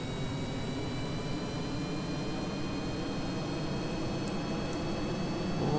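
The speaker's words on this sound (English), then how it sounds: "we've got to turn the engines on" A very large plane's jet engines roar continuously at full power in Kerbal Space Program, a steady, loud broadband rush that swells slightly at the end.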